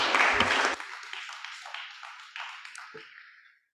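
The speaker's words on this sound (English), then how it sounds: "Let's encourage Philip with an applause." An audience at the Trieste Citizen Accelerator AAL 2021 opening event claps briefly. A short, fairly faint round of applause starts full and thins to scattered claps before fading out.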